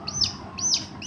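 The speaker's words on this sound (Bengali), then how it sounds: "মুরগি বাচ্চা কান্না করে" Chicken chicks give two quick, high, thin cheeps about half a second apart, fairly faint, with no talking.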